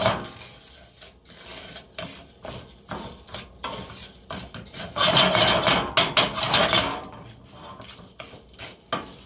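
Dry rice for pumpkin risotto tossed and stirred in a pan, giving repeated scraping, rattling strokes up close, with a louder, busier burst of stirring in the middle.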